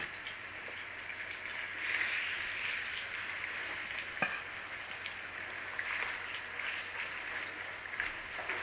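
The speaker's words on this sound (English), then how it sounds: "We're going to sear off the chicken and we're going skin side down." Chicken pieces searing skin side down in a crowded pan for a one-pot chicken stew, giving a steady, moderately loud sizzle and crackle with a few sharper pops.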